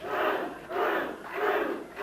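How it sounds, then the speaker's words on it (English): A wrestling arena crowd at a St. Louis event chanting "Butch" in three rhythmic, roaring swells, loud and dense with many voices. "the crowd is chanting, Butch, Butch, Butch."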